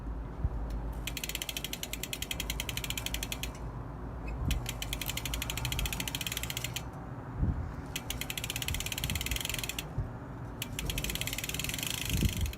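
A mountain bike's cassette freewheel ratchets in three long bursts of rapid clicking while being cleaned, separated by short pauses, close and steady over a low background rumble with occasional soft knocks and no talking.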